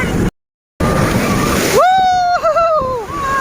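Sea waves wash steadily onto the Kanyakumari seashore in a broad continuous roar, close and loud, with a brief dropout and then a voice speaking over the surf.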